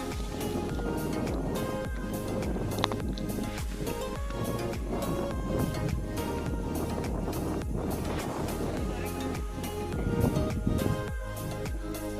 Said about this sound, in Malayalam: ഇവിടെ കാറ്റ് മാത്രമേ ഉള്ളൂ